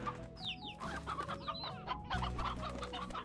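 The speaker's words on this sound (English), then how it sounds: "Where's my rooster?" A rooster in the video game Slime Rancher clucks in quick repeated bursts, fairly close, over a steady layered game background with no talking.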